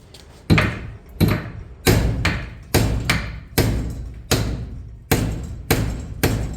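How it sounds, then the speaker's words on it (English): Heavy hammer blows strike a piece of 5160 steel about a dozen times in an uneven rhythm, each hit loud and ringing briefly before the next. "We're going to hit it until it breaks"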